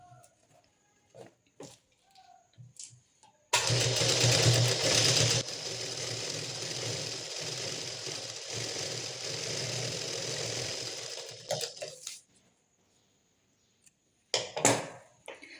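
A sewing machine runs steadily for about eight seconds while stitching the sleeve seam of a plain blouse, its motor hum loud and close, framed by brief handling noises and a quiet pause before and after.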